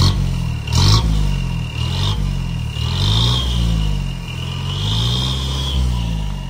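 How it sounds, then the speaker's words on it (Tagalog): A car engine revs repeatedly through a Jet Inoue stainless muffler with a new stainless tailpipe, giving several rising and falling surges close by over a steady idle, with no talk. "check lang tayo nung nung muffler natin. Rev mo lang."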